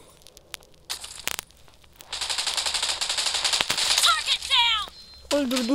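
Automatic gunfire in the PUBG video game, opening with a few sharp single shots and then a long, loud rattling burst of rapid fire with crackling impacts, while a voice is heard over it.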